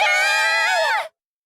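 Anime characters let out a loud, sustained shared scream of hysterical shock, a shrill harmonic cry lasting about a second before cutting off abruptly into silence.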